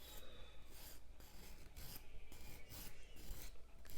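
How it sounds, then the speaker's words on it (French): A 180 grit nail file rasps back and forth across a natural fingernail in steady rhythmic strokes, close and soft, with short pauses between passes and no talking. "moi je prends la lime 180 et je viens griffer l'ongle"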